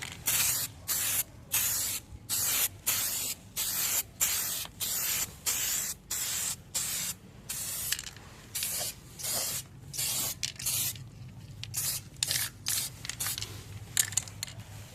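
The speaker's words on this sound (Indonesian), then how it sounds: "Kita mulai penyemprotan aja ya, menggunakan epoksi." Repeated hissing bursts of a spray gun applying thin coats of epoxy primer to motorcycle parts, short regular blasts separated by brief pauses, close and steady throughout.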